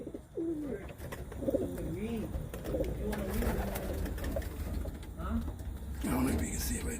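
Racing pigeons cooing and calling near a home loft as birds return from a 150-mile race, steady soft coos over a background murmur with someone talking intermittently.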